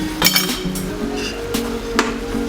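Utensil clinks and scrapes against a pan while fried beef is stirred with cream, with a few sharp metallic taps over a low steady background.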